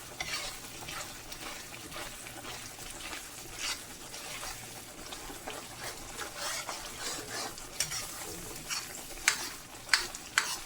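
Brown masala frying and being stirred in a pan, a steady close sizzle with repeated scraping stirs and a few sharper clicks toward the end, with no voices.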